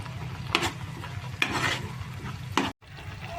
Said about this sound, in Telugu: ఉల్లిపాయ పేస్ట్ మగ్గుతుంది కదండి, ఉప్పు కూడా వేసేద్దాం.